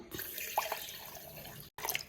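Roughly a glass of water pours into a grape juice mix with sugar, a close, steady splashing trickle that stops briefly near the end before a last short splash.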